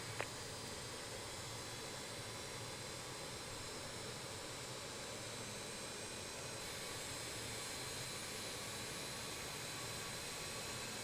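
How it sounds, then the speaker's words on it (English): Four jet engines of the Just Flight RJ in Microsoft Flight Simulator 2020 run after starting, making a steady, even roar and hiss that holds without a break. "And we have 4 good engine starts."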